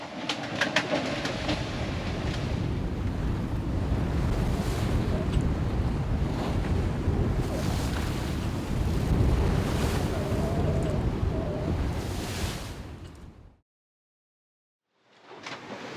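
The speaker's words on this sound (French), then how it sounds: "y a quand même du vent, un petit peu trop à mon goût" Strong wind buffets a sailboat under way at sea, with steady gusty roar and rushing water, before cutting out abruptly and briefly returning.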